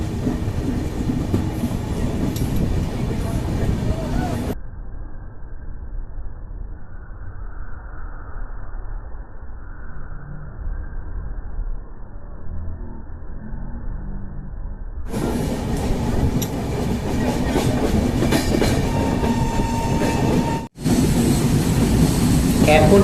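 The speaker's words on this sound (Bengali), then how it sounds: "এখন ট্রেন পাস করছে ফারাক্কা ব্রিজের ওপর দিয়ে।" The Howrah–Guwahati Saraighat Express rumbles steadily across the Farakka bridge, a continuous loud rolling roar with rhythmic wheel clatter that stays close throughout, briefly muffled partway through, with a voice talking over it.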